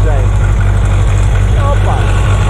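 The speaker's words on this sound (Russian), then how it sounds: "У нас тут препятствие, как трактор справится с ним." Tractor engine idling and straining at low revs as it drives over an obstacle in a Crimean vineyard, a steady close rumble throughout with people talking over it.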